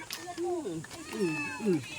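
Several cat meows with rising and falling pitch, close by and fairly clear, overlapping with background voices.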